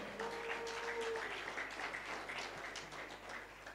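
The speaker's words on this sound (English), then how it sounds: "Hold your applause." Applause from an audience at a company event, a soft, distant wash of clapping in a large hall, steady and low in level with a faint tone audible briefly near the start.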